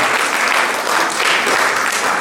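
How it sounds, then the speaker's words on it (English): Loud, dense applause from an audience at an elementary school arts awards show for the Trailblazers, sustained clapping that rolls evenly throughout with slight swells. "Give a round of applause to the Trailblazers."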